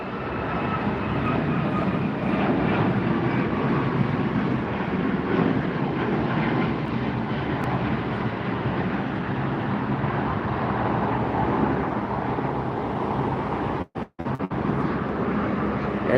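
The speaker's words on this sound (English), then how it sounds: "Next departure, heading to Chicago. This is the 737 MAX 9." A Boeing 737 MAX 9 airliner departing LAX roars steadily with loud jet engine rumble and whine, sustained throughout with a brief dropout near the end.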